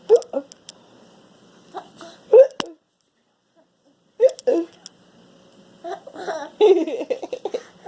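A baby hiccups and giggles in bursts while being tickled by a parent, close and fairly loud, with short quiet gaps between the clusters of small jerky vocal sounds.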